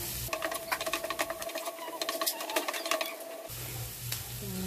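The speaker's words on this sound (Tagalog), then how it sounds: "Guys, haluin na lang natin." A wooden-sounding stirring and scraping of chopsuey in a pan, close and fairly loud, moving in an uneven rhythm with a faint sizzle underneath and no talking.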